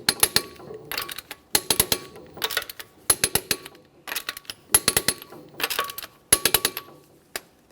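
Torque wrench tightening the 21mm lug nuts on a 2010-2013 Kia Forte Koup wheel to 80 foot-pounds, repeated bursts of rapid metallic ratcheting clicks in short clusters with brief pauses between, close and crisp, no talking.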